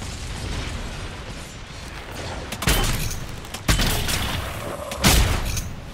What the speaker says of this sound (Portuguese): Jogar uma bomba no meu pé aqui